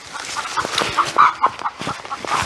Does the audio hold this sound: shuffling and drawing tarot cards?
no